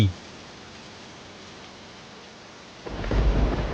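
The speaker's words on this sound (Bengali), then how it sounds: "এই বাইরে তো অনেক বৃষ্টি হচ্ছে" A cartoon sound effect of heavy rain outside: a brief sound at the start, then near quiet, before a loud rush of downpour with deep thunder-like rumble swells in near the end.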